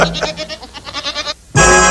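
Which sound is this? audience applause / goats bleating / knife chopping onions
goats bleating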